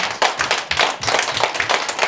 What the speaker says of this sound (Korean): Why don't you clap your hands to Jesus?